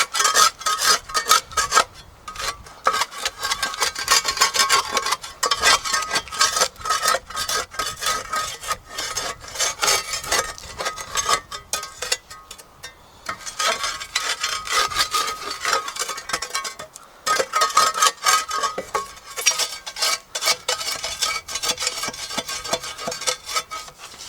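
A tool repeatedly scrapes burnt char from the hollowed inside of a wooden log stool, a close, rough rasping in steady strokes with brief pauses between bursts.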